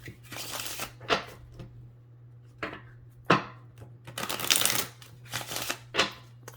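Tarot cards are shuffled in close, irregular bursts of papery riffling and slapping, with short pauses between handfuls over a faint steady hum.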